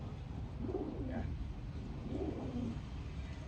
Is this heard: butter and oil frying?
no